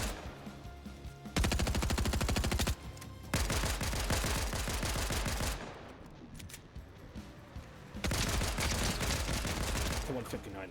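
Automatic and rapid gunfire in a competitive shooter video game tournament, loud bursts of fast shots in several long volleys with short pauses between them, while players talk.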